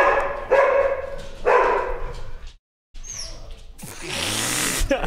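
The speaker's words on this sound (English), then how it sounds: "We have dogs." Dogs bark indoors in a series of loud, close bursts, with a short silent break and then other household noise.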